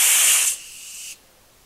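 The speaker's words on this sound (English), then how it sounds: "I'm just going to slightly open the bottle for a second here and let a little gas escape." Argon gas hisses sharply out of a TIG welding gas bottle as the valve is cracked open briefly, a loud half-second rush that drops to a softer hiss and then cuts off.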